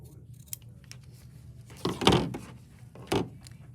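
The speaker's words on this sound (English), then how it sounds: "and trim these pieces." Scissors snip through fabric while quilt pieces are trimmed for paper-pieced quilt blocks, giving a few short crisp cuts close by, the loudest near the middle and one more toward the end, against a quiet room.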